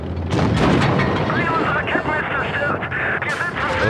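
Tank cannon fire in World of Tanks Blitz: a heavy booming shot with rumbling battle noise and a rising whine of engine and shell sounds, with someone talking over it.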